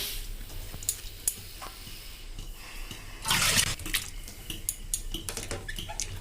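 Snails are rubbed and washed in water, with wet squelching, small clinks of shells against a vessel and a brief louder splash of water being poured off midway.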